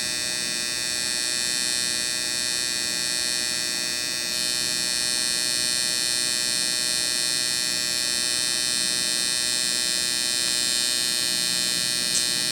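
Permanent makeup machine with a two-needle tip tattooing lower eyeliner between the lashes, a steady high electric buzz running continuously and close, with no talk over it.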